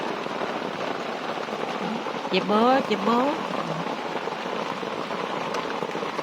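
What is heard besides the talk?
rain falling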